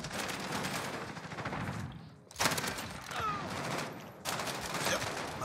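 Rapid, dense bursts of gunfire from the video game Modern Warfare, loud and sustained across the whole clip with only a couple of brief gaps, mixed with other game sounds.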